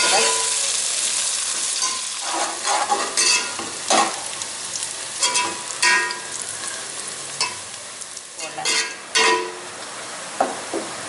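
Onions sizzle and crackle steadily in hot oil, with repeated scraping stirs of a spoon against the pan.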